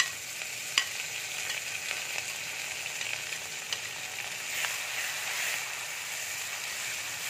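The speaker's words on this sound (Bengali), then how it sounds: "এবার আমি গোটা গরম মশলা দিয়ে দিচ্ছি, তেজপাতা দিয়ে দিচ্ছি, এবার পেঁয়াজটা দিয়ে দিচ্ছি" Onions frying in hot oil with whole garam masala and bay leaves, a steady close sizzle with faint scraping stir clicks throughout, no voices.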